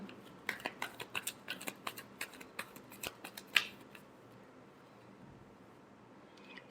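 Tarot cards riffled and shuffled by hand in a quiet room, a quick run of crisp papery snaps over about three seconds, then quiet.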